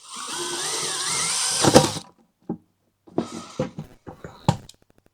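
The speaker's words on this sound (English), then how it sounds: "We're just going to drill a couple holes in the top here." A power drill whirs steadily for about two seconds drilling holes in a lid, then stops, followed by a series of short knocks and clatters nearby.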